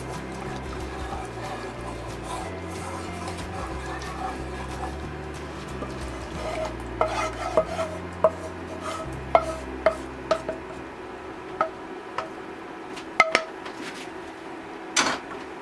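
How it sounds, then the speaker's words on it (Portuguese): Feijoada broth is stirred in a frying pan: a low background hum, then a series of sharp metallic clinks and scrapes of a spoon against the pan, spaced irregularly in the second half. "Aí eu vou misturar bem."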